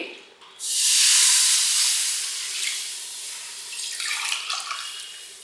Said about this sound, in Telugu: ఒక 6 గ్లాసులు నీళ్లు ఈ ప్యాన్లో యాడ్ చేసుకుందామండి